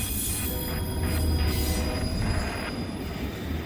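A CSX freight train rolls past with steady rumble and sustained high metallic wheel squeal, loud and continuous throughout with no voices.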